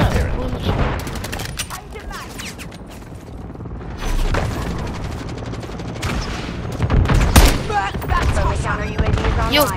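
Dense bursts of automatic gunfire and explosions in the game Modern Warfare 3, rattling continuously with loud booms, while players talk over the action.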